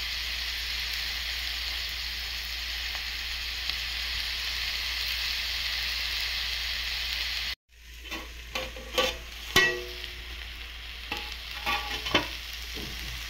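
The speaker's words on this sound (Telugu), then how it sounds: "కొంచెంసేపు టమాటా ముక్కలు కూడా మగ్గనిద్దాం" Tomato pieces and coriander cook in a pan with a steady loud sizzle, then the frying drops out and a run of scattered stirring scrapes and clinks follows.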